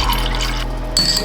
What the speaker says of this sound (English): I'm gonna check the water right now from the sink in the bathroom